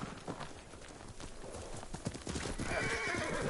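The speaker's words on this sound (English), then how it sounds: "Oh, this is my horse." Horse hooves clip-clop in a steady gallop and a horse neighs in Ghost of Tsushima, the hoofbeats near and continuous with the whinny rising toward the end, no talk over it.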